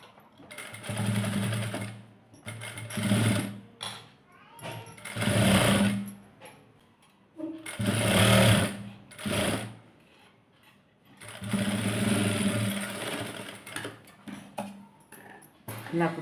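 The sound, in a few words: sewing machine stitching cloth piping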